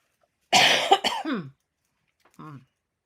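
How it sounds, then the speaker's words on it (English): A single harsh cough close to the microphone, followed a moment later by a short, quieter throat sound, then silence. "My cough seems to be wanting to tickle my throat a little bit."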